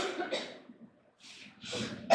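Several short, rough coughs from a person in a church audience, spaced apart with a quiet gap in the middle, fairly close and moderately loud.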